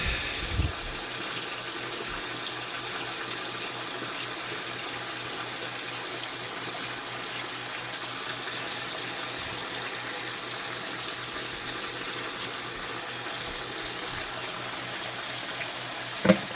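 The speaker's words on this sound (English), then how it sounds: "I just need more water in my squeeze bottle." A tap runs a steady, unbroken gush of water into a squeeze bottle during basement gold panning. The flow is fairly loud and constant and plays alone for the whole stretch, with a brief knock right at the end.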